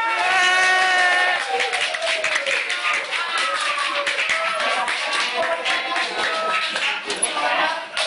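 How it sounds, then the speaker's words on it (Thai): Clapping from a small group standing around, close and uneven, mixed with loud overlapping voices and laughter throughout. "ขอเสียงปรบมือดังให้กับ น้องที่ยืนข้างหน้าด้วยครับ"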